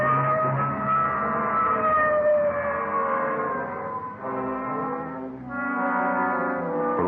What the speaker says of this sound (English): Okay, hit the siren.